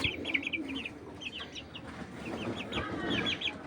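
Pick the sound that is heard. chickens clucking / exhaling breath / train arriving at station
chickens clucking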